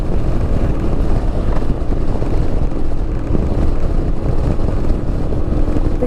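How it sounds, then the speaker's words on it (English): Wind buffets a motorcycle rider at speed as a loud, continuous low roar and rumble that fills the whole six seconds with no speech. "The usual wind buffeting."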